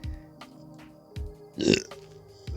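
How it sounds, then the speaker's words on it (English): A person burps several times outdoors, with low croaking belches including a louder, longer one near the middle, close to the listener over faint background noise and no talk. "why am I burping so much?"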